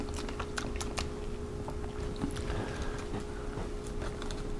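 Crunchy, seasoned skin of an air-fried whole chicken made in an Instant Pot Duo Crisp pressure cooker, chewed close up with soft irregular bites and crunches over a steady background hum.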